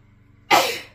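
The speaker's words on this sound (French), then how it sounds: "Je vais éternuer." A single close, abrupt human sneeze breaks a near-silent moment and then trails off quickly.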